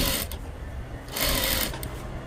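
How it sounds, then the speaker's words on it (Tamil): A sewing machine stitches the round-neck lining of a back blouse in two close, steady bursts of rapid needle clatter separated by a brief slower stretch. "ரவுண்ட் நெக்கை நான் அப்படியே தைக்கிறேன்."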